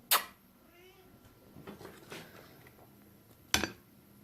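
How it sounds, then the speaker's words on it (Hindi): Cats sitting near a cook preparing Afghani shahi tukray in a home kitchen let out a few faint meows amid soft kitchen clatter, framed by two sharp bursts at the start and near the end. "बिल्लियाँ भी मेरे पास बैठी हुई हैं,"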